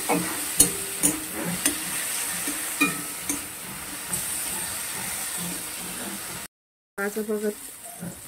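Ginger paste and tomato sizzle steadily in a pan while a spoon scrapes and knocks in irregular strokes; the sound cuts out briefly near the end, then the frying returns with a voice over it.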